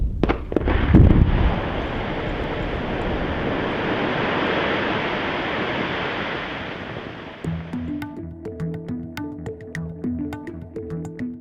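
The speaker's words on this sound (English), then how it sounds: "precisely timed explosions are used to free a rock called taconite from the earth" A thunderous taconite mine blast in northern Minnesota with a long rolling rumble that fades out, followed by a steady rhythmic mechanical clatter of machinery.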